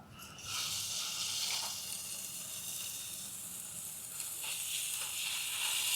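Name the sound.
steak sizzling in a pan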